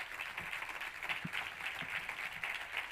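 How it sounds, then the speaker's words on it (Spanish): Steady crowd applause at a gastronomic tourism conference, with dense, even clapping throughout, moderately loud and sustained without pauses. "Un aplauso para José María Isega."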